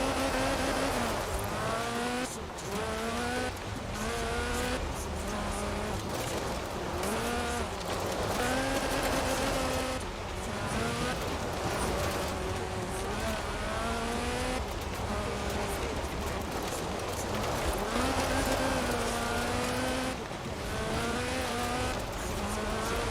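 Lotus Sunbeam rally car from 1979–1980 racing in Forza Horizon 4, its engine loud and continuous, revving up and down through repeated gear changes with rising and falling pitch sweeps and occasional tire noise, no talk.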